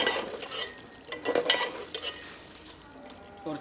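A spoon stirs chicken karahi with ground garam masala in a metal pot, giving irregular scraping clinks and soft sizzles that stay close and then fade to a quiet simmer.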